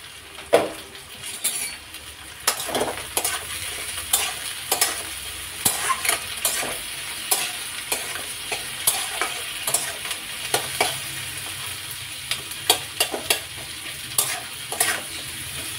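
Vegetables fry in a pan for a homemade pasta dish, a steady sizzle broken by frequent sharp scrapes and clinks as a spatula stirs and knocks against the pan, close and fairly loud, with no talking.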